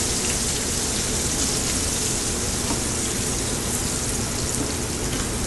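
Veal shank osso buco searing in a hot pan in a restaurant kitchen, a loud, steady, unbroken sizzle that fills the whole clip with no talking.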